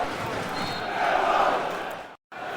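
Roaring football stadium crowd rising in a sustained cheer after Millwall score an early goal against Blackburn Rovers, loud and distant-sounding, swelling midway before a brief dropout.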